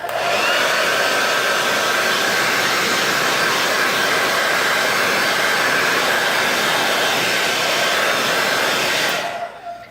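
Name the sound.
blow dryer on high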